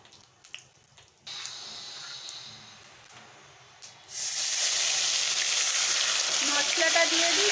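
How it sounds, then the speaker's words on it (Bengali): Cumin seeds go into hot oil and set off a loud, steady sizzle that starts abruptly partway through, after a quieter stretch of faint kitchen clatter. "জিরে ফোড়ন দিয়ে দিচ্ছি"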